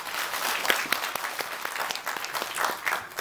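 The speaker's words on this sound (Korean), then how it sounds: "한번 박수 부탁드리겠습니다." An audience at a launch ceremony for a nationwide signature campaign claps, a lively spatter of many hands with distinct sharper claps standing out, steady and moderately loud for a few seconds.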